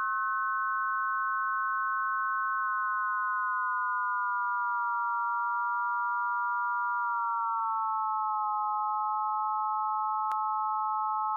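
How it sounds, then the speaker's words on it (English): Oscilloscope-music signals from a VCV Rack modular synthesizer hum as a steady, pure chord of sine tones that drifts slightly in pitch, with a brief click near the end and no voices. "Now let's hear how these signals sound."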